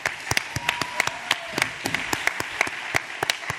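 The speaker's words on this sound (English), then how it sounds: "let's give Bob Zellner a rousing round of applause" An audience gives Bob Zellner a round of applause, sparse and fairly close hand claps with distinct individual strikes rather than a dense roar.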